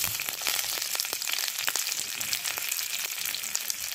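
Curry leaves crackle and spit in melted ghee in a pan, a dense, steady sizzle with scattered sharp pops throughout, close and alone without any talking.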